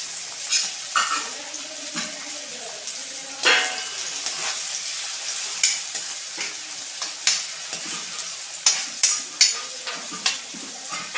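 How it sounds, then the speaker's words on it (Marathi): Onion fries in a pan of hot fat with a steady close sizzle, broken by repeated scraping stirs and sharp spatula clinks against the pan. "त्यात कांदा टाकता कांदा लाल होऊन द्यायचा"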